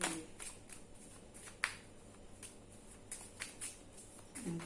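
Angel cards riffled by hand, giving a few soft, brief papery bursts separated by pauses over a faint background hiss.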